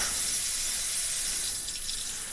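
Hot water runs from a Moen kitchen faucet into the sink, a steady bright splashing hiss held close and continuous throughout, with no voices.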